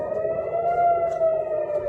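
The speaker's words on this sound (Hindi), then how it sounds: "सायरन बज रही है पूरे टेल अवीव में," Air raid siren sounding across Tel Aviv during an Iranian missile attack, a loud steady wail holding one sustained tone with overtones and no break.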